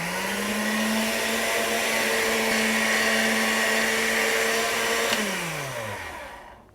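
A pasta machine's rollers flatten dough for linguine with a steady, close motor whine that holds for several seconds, then drops in pitch and spins down at the end.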